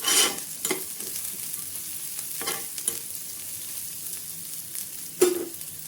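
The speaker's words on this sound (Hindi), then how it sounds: "इसमें थोड़ा सा हम 8 से 10 दाने मूंगफली के डाल देंगे। इनको भी ऐसे चला लेंगे।" Peanuts and spices roasted on a low flame in a pan for a samosa roll filling, stirred with close, dry scraping strokes over a soft sizzle, with a sharper clack near the end and no talk.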